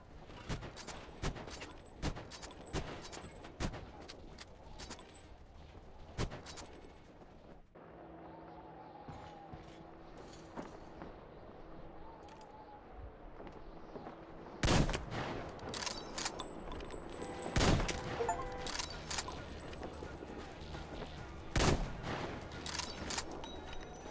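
Gunfire in the video game Metro Exodus, rapid bursts and single shots cracking repeatedly over a steady background, with a heavier cluster of loud blasts in the second half.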